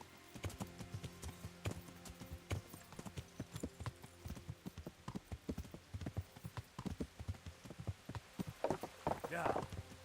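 Horse hooves clip-clopping steadily on the ground in the medieval video game Kingdom Come Deliverance, a quiet, even walking rhythm throughout with a brief rustle near the end.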